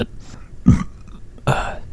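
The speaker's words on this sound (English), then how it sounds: "Sorry, I just burped a little bit." A short, low burp from a man chatting casually about Batman films, with a couple of soft throat sounds around it; close and fairly quiet.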